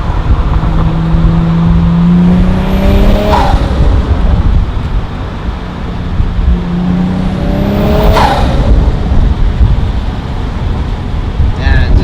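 A car fitted with a Vargas air intake revs hard twice, each burst climbing in pitch and then dropping away, loud and close over a constant engine drone.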